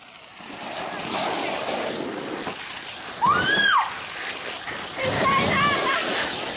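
Water being poured and splashed out, with bursts of splashing and sloshing rising and falling, mixed with excited voices and a sharp shout in the middle.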